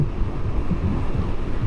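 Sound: wind noise while riding a motorcycle

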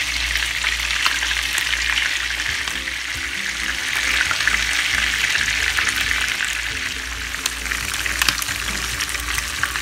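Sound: frying chicken in a pan

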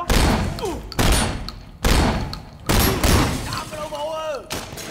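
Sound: gunfire in the video game Sleeping Dogs

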